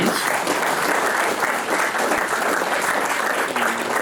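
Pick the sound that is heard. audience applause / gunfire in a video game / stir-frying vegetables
audience applause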